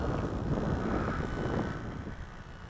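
Gusty wind of about 7 mph gusting to 10–12 mph buffets the microphone in a low, rough roar that rises and then eases off toward the end.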